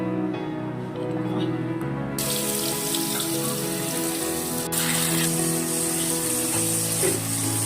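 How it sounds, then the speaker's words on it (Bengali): Potatoes frying in a pan give a continuous crackling sizzle. It sounds close and moderately loud, with a low hum beneath and a sharper burst of crackle partway through. "ফার্স্টে আলুটা আগে ভেজে নিচ্ছি।"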